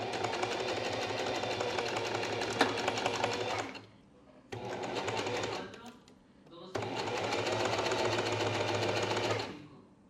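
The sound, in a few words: sewing machine sewing a straight stitch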